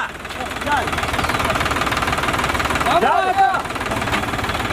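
A steady engine drone runs throughout with a low rumbling throb, while people talk over it and a brief higher whine rises near the middle.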